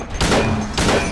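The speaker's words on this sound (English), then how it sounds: "Start shooting." Two loud, booming gunshots a little over half a second apart ring out during the Pyramid Head boss fight in the Silent Hill 2 video game, each with a heavy reverberant tail.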